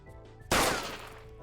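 A gunshot sound effect rings out as one sudden, loud bang about halfway through, with a long ringing decay over a faint, steady background bed.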